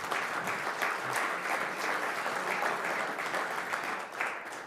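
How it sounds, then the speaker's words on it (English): Sustained applause from the audience at a city council meeting in St. Catharines, a dense, steady wash of many hands clapping at even loudness throughout, with no talking over it. "If we give a round of applause for all of them."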